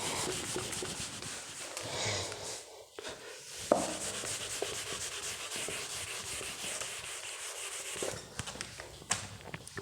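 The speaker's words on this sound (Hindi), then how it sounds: "इसको मैं रब कर देता हूँ यहाँ से, इस यहाँ से रब कर देता हूँ।" Chalk being rubbed off a classroom blackboard, a steady dry scraping wipe that runs continuously and close with brief pauses, as a diagram is erased.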